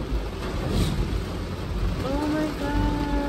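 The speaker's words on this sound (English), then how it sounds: "raining is crazy" A heavy, constant wash of rain hisses throughout, broad and steady, with a faint tonal hum emerging near the end, amid flooding.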